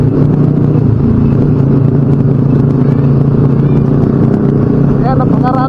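Many motorcycles rumble together on a charity ride, a loud, continuous engine drone close by with layered exhaust tones. Riders' voices can be heard over the noise.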